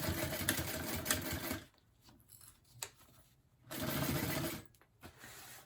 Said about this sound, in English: you're just going to stitch along the edge, the raw edge of the binding, to sew this into place